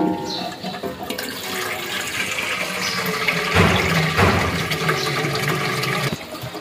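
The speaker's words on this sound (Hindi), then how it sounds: "तो अभी पानी भरते हैं," Water running from a tap and filling a container at home, a steady gushing and splashing stream that swells midway, then cuts off near the end.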